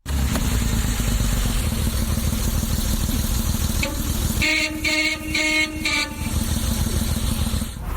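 A vintage Morris commercial truck pulls up nearby, its engine a loud, steady rumble that turns rougher and throbbing partway through before settling back to a constant drone, with no other sounds over it.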